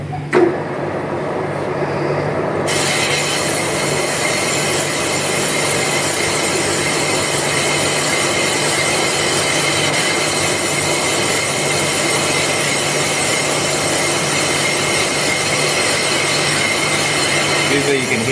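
Power saw cutting steadily through a Harley Davidson cylinder sleeve, a loud continuous grinding whine that holds for the whole stretch after a brief quieter start, with no talk over it.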